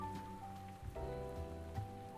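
Steady rain pours down in a night city scene of the video game Figment 2: Creed Valley, a continuous moderate hiss of drops on surfaces running under tonal background music, with no voices.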